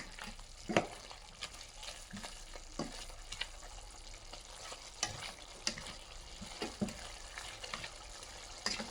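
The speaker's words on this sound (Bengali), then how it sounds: "ভালো করে নাড়াচাড়া করতে থাকলাম, দেখতেই পাচ্ছেন আপনারা ঘুরিয়ে ঘুরিয়ে নেড়ে দিচ্ছিলাম।" Tough chicken sizzles in a pot while a spoon stirs it hard. Faint bubbling and frying run throughout, and scattered scraping clinks come from the stirring.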